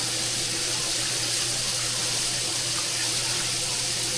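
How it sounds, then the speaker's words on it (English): Water poured from a large 32-ounce cup into a pot of braising liquid for turkey enchiladas, a steady close splashing rush that runs unbroken from start to end with no talk. "So I'm just gonna add some water."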